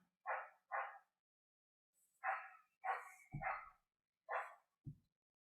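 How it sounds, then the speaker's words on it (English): A dog barks in a sparse outdoor setting, about seven short separate barks in an irregular rhythm, fairly distant and quiet against near silence. "Perhaps the dog barking is Odin's wolves."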